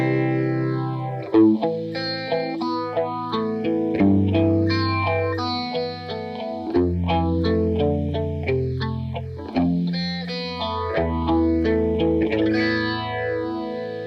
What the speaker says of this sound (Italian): se accendiamo il pedale e lo mettiamo alla posizione più bassa, abbiamo il classico suono anni 70